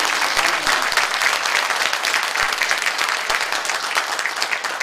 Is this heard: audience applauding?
yes